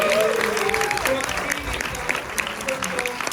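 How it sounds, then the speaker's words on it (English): After a Shaky Shivers film Q&A, the audience claps for actress Brooke Markham. Steady applause fills the room while voices talk over it. "another round of applause for Brooke"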